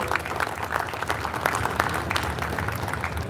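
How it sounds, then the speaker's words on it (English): A hall full of people at a university golden jubilee event claps in a continuous, close, even round of applause with no speech over it. "A lot of applause from everybody here."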